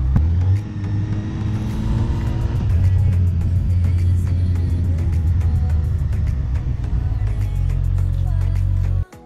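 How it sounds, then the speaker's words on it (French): A Honda Hornet motorcycle rides through traffic, its engine droning steadily and loud up close with rising and falling revs, then settling into a lower idle-like rumble near the end before cutting off. "On va aller faire un petit essai de la moto en roulant"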